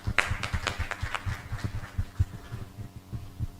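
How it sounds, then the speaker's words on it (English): An engineering event audience claps in a steady patter of applause, moderately loud and close, thinning toward the end. "Kindly give them another round of applause."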